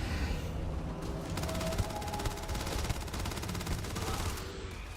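Rapid automatic gunfire in Starfield, fired at the player: a steady stream of fast, evenly spaced shots that rattle on without a break, set in a dense, noisy battle soundscape.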